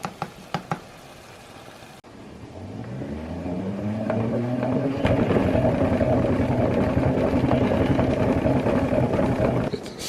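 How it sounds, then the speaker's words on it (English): A salad spinner drying lettuce: a few knocks as the crank starts, then a whirring spin that rises in pitch and settles into a loud steady hum before slowing near the end. "It's a spin dry for your lettuce."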